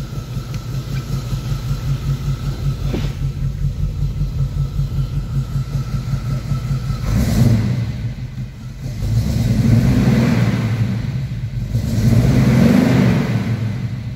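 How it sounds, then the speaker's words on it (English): A 1940 Chevy hot rod idles with a lumpy lope, then its engine revs up sharply about three times, each swell rising and falling back to idle, loud and close. "I'll go into the inside now and give her a couple of revs."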